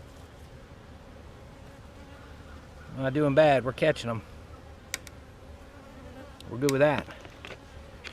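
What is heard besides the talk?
bee buzzing around hive beetle jail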